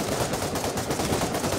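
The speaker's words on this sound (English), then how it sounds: "Someone just tried to shoot me." Gunfire in the VR shooter Pavlov, a brief dense burst of rapid shots that sounds like a short automatic volley, fairly loud and with no talk over it.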